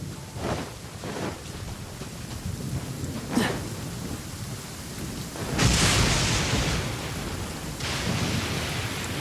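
Steady rain with a few rumbles of thunder in Inazuma from the game Genshin Impact, a continuous wash of rainfall throughout with a louder roll swelling partway through, no voices.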